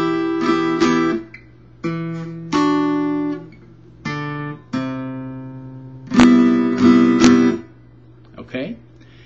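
A guitar slowly strums a chord sequence from a song, each chord left ringing briefly before a short pause and the next, about seven or eight in all.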